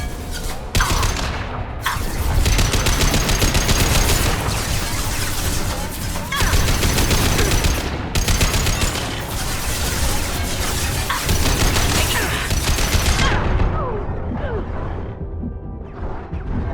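Gunfire in the video game Mass Effect 2 comes as loud, sustained bursts of rapid shots and heavy impacts, with brief pauses between volleys and a closing stretch of scattered crashes.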